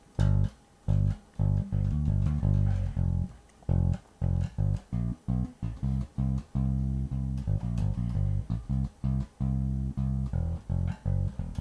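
Electric bass plays a line, a punchy low riff of short plucked notes in a steady syncopated rhythm, close and alone with no voice.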